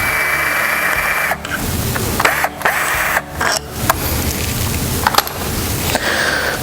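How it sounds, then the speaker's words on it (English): A power driver fitted with a 4mm Allen bit whirs steadily as it unscrews two bolts on a machine's head unit, with brief pauses and clicks breaking the continuous motor drone. "change your head to a 4mm Allen wrench and unscrew these 2 bolts"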